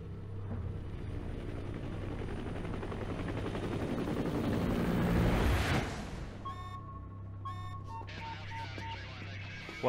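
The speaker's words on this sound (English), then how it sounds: "There's a jet on our tail." A jet aircraft in pursuit in Metal Gear Solid V roars in a dense, rising engine rush that swells loudest around the middle, then cuts away to quieter electronic beeps and tones.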